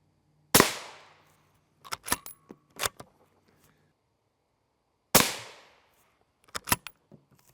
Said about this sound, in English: We got 10 shots all on this plate.